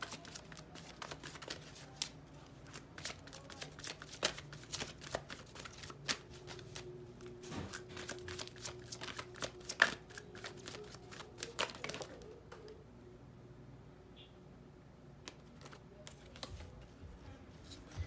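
Tarot cards are shuffled by hand in a steady run of quick riffling and flicking slaps, close and fairly soft, with the pace easing toward the end and no talk.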